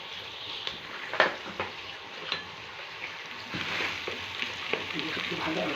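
Chopped onion sizzles steadily in a hot pan, a dense crackling hiss with occasional sharper pops, close and fairly quiet with no talking over it.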